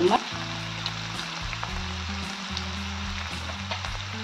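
Spices with red chili powder, salt and turmeric roast in a hot pan for wheat flour upma, giving a steady close sizzle and frying crackle with a few light stirring clicks, under a constant low kitchen hum.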